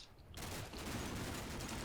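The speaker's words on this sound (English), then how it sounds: "So yeah, 50 cal fire" .50 cal machine gun fire in the wargame Combat Mission: a sudden onset after a near-silent start, then a dense, continuous rattle of distant automatic fire sustained to the end.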